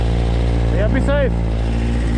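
A motorcycle engine drones loudly and steadily up close on a road, a constant low hum while a voice speaks briefly over it.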